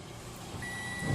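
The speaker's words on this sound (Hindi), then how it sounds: "डिजिटल मल्टीमीटर को बजर मोड पे लगाना है" A digital multimeter in buzzer mode sounds while a fuse on an LED TV motherboard is checked. A steady, faint high tone starts partway through and holds to the end over a low background hiss.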